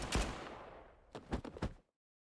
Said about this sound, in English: Did you hear that? Was it a gunshot?